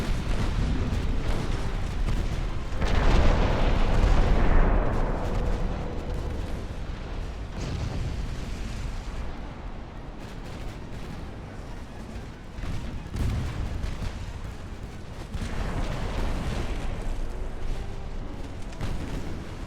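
An 1890s-era naval battle in Ultimate Admiral: Dreadnoughts, with rumbling booms of heavy gunfire and explosions rolling continuously, some blasts louder and nearer, layered into a dense, sustained battle din.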